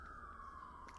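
An ambulance siren on a Manhattan street in New York City sounds as a faint, distant, steady wail whose pitch slowly glides downward, with no voices over it.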